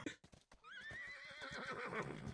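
A horse in a video game lets out a loud, close whinny, a rising then wavering neigh after a few hoof clip-clops, with hooves still clattering beneath it.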